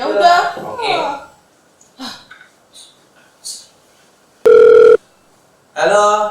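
A telephone ringing tone bursts out loud and steady for about half a second, alone between snatches of nearby talk and breathing before and after.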